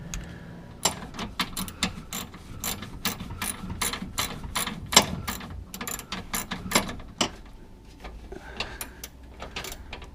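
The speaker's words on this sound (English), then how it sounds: "I might have to get a regular ratchet for that" Ratchet wrench clicking on a sway bar bolt under a fifth-generation ZL1 Camaro, close-up bursts of rapid pawl clicks in uneven strokes, pausing near the end.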